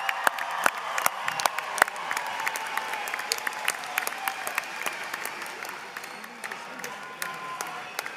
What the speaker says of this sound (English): I'd like to just give one more round of applause to the faculty at SDCC.